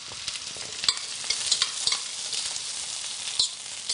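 Mushrooms stir-fry over high heat in a wok with cauliflower, a steady close sizzle broken by repeated scraping and clinking stirs throughout, with no talking.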